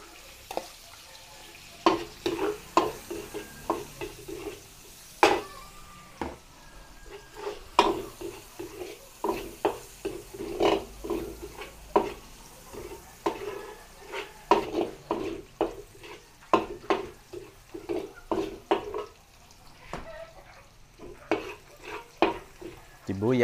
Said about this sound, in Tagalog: Tapos magigisa na tayo. Gawin tayong konting mantika. Gawin tayong bawang.